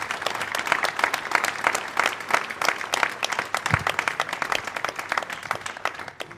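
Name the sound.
audience applause at a public meeting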